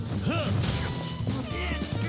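In the video game Yakuza Kiwami 2, a glass breaks with a sudden, loud smash and bright scattering shards, followed by a second crash, over game sounds and a brief vocal sound.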